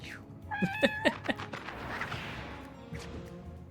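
Cats in the video game Mewgenics let out a quick run of three or four bright meows, close and clear, followed by softer scuffling game noise.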